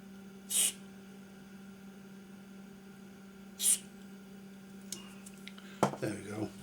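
Spray on the parts of a Midland 77 radio under repair: two short, close hissing bursts a few seconds apart over a steady electrical hum, then some clattering handling noise at the end.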